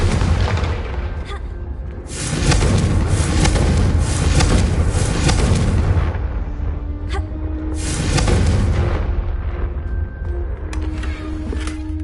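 A Confringo blasting spell explodes in a video game, with several loud booming bursts and crackling rumbles spread across the clip over a steady low background.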